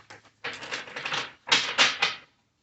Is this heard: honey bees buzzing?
no